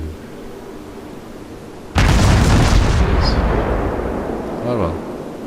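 Cruiser Cleveland in World of Warships firing a naval gun salvo, with a sudden loud boom followed by a rumbling decay and distant shell impacts under steady background noise.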